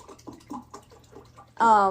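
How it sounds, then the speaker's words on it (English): Lemonade poured into a glass indoors, a bright splashing gush bursting in near and loud for the last half second after a stretch of speech-like murmuring. "This is splashing everywhere."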